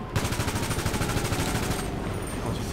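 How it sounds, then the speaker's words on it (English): Compact rifle firing in Grand Theft Auto 5: a sustained, rapid burst of loud, close automatic shots in an even rhythm that runs almost the whole time. "Compact rifle."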